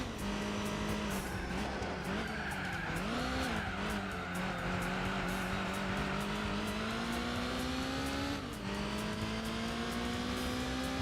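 Racing cars in Gran Turismo 4, including an RX-7, hold a steady loud engine drone with brief pitch dips at gear shifts and faint tire noise, with no talk over it.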